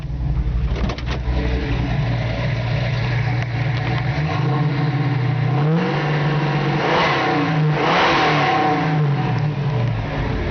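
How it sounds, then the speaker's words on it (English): The V8 engine of a 1971 Ford Torino 460 muscle car idles with a deep rumble, then revs up in rising and falling surges, its exhaust loud and throaty nearby. "It's got a really nice aggressive sounding exhaust."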